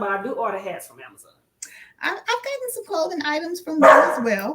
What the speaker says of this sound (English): So yeah, that's my dog.